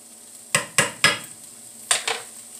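Browning food stirred in a frying pan, five sharp scrapes of a utensil against the pan in two groups, each clatter fading quickly over a low background sizzle, with no talk.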